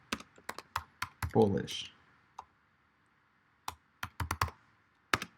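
Quick clicks of typing on a computer keyboard come in short bursts with gaps between, close and crisp, with a brief spoken word near the start.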